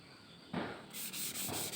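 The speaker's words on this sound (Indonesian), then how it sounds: "baru kita lakukan penggosokan menggunakan kertas pasir seperti ini. Kita amplas lagi sampai merata." Sandpaper rubbed by hand over a plastered wall being smoothed after crack repair, a few close, rasping strokes in a steady back-and-forth rhythm with no talk.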